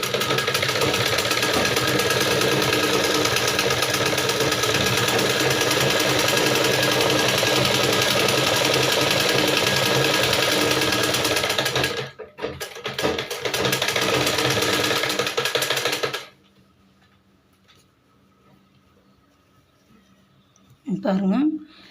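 A sewing machine stitches a belt onto a blouse, running fast and loud for about twelve seconds. It then stops, chatters in a few short bursts and falls silent, with a brief noise near the end.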